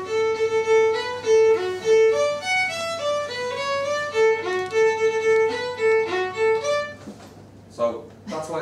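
A lone melodic instrument plays an Irish tune in a stiff, even, sight-read manner at a pub music session at the Ha'penny Bridge Inn, clear and close, before a speaking voice cuts in at the end.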